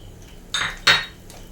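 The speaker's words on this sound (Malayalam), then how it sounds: "നല്ലപോലെ ഒന്ന് മിക്സ് ആക്കി കൊടുക്കാം" A metal spoon stirs urad dal and curry leaves in a pan. Two quick scraping clinks sound close together, and a fainter one follows after a quiet gap.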